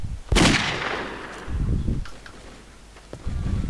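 A single loud, close gunshot bursts out in the Brick Force shooter game, followed by fainter rustling and a couple of softer clicks and thuds.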